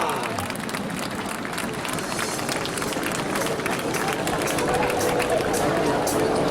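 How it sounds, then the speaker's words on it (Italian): Crowd applause at an air show for a Patrulla Águila jet formation, a dense steady wash of clapping and cheering from many spectators that continues throughout, with background crowd noise. "Un forte applauso per la formazione Plus Ultra della pattuglia Aquila"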